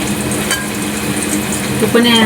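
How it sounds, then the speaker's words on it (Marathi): Dhopa leaf vadi coated with poppy seeds fry in hot oil with a dense, even crackling sizzle, close up; a faint voice-like tone rises near the end. "बघा अशा तळण्यात आल्या."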